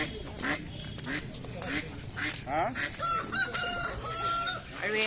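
Chickens and ducks at a busy market, with clucking, a rooster's crow and quacking mixed together close by, under ongoing talk and general crowd noise.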